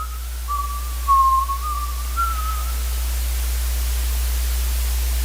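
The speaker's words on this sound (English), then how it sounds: "Timothy heard a familiar whistling coming from outside." A single clear whistled melody from outside, a wavering tune lasting a couple of seconds over steady static hiss, fairly faint and alone.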